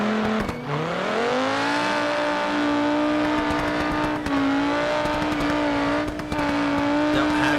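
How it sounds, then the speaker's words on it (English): Inline-4 engine in a BeamNG rallycross race car at Lonestar Speedway, screaming near the rev limiter. Held close and loud with a steady high whine, dipping briefly between gear changes before climbing again. "Beautiful sound of that inline 4 just screaming up near the rev limiter"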